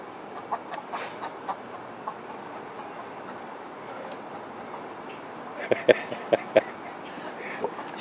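Several backyard chickens cluck in short, scattered bursts over a steady low background hum, with the calls clustering toward the end.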